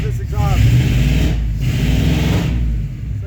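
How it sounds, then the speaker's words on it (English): A cold 1985 K20 truck engine revs briefly and then settles into a deep, steady exhaust rumble, with someone talking over it. "There's my exhaust system."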